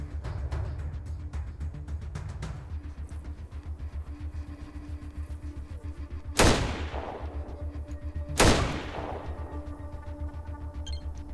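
Two sharp gunshots ring out in an ATOM RPG battle against a Halloween pumpkin-head event backdrop, spaced about two seconds apart and loud over a steady low rumble of game ambience.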